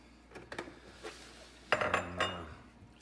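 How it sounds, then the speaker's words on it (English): A spoon scrapes and clinks against a pan of sausage gravy made with milk, stirred continuously over low heat on an electric stove, with a few sharp metallic taps and a longer scraping passage near the end. "just let it cook, just continuously stirring it here"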